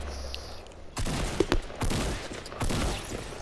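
Gunfire in the Fortnite battle royale game, a burst of sharp shots and rapid cracks after a quiet start, fairly close and loud with no talk over them.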